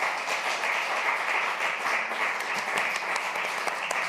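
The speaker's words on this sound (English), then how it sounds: "they all deserve a big round of applause for sharing all their insights and knowledge" An audience at a conference session on mobile-enabled microinsurance applauds the panelists, with steady, even clapping of moderate loudness and a few distinct sharper claps standing out near the end.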